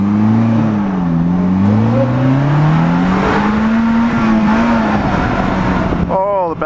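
A 2015 Polaris Slingshot SL pulls away hard in first gear, engine note climbing loud and close with a rising whine, then easing off as a voice starts talking near the end.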